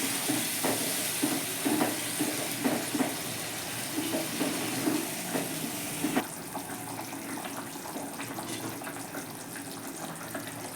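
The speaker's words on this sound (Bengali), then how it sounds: "এখানে একটু জল গরম করে রেখেছি গরম জলটা দিয়ে দেবো" Hot water poured from a vessel into an arbi and potato curry cooking on a gas stove, a steady splashing stream with a faint steamy hiss that drops off partway through, with no voices.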